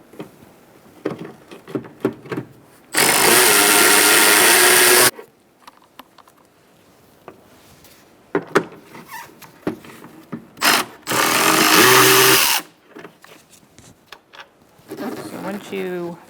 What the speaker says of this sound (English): You're going to take a 10mm socket and you're going to loosen up these two bolts.